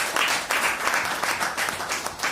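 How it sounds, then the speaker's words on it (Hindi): A crowd at a leadership meeting claps steadily for a couple of seconds, a dense, continuous wash of applause filling the room with no talk over it. "तो मैं चाहता हूं कि हम सब लोग अपने लिए एक जोरदार ताली बजाएंगे।"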